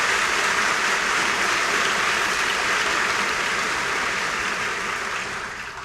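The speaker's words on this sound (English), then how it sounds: "Let's give our applause again" A school convocation crowd claps in a broad, sustained round of applause that holds steady for several seconds and then gradually tapers off at the end, with no speech over it.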